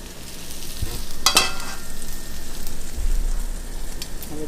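Tartiflette ingredients stirred together in a hot pan, a steady close sizzle with scraping strokes of a utensil and a brief clatter near the middle, no voices.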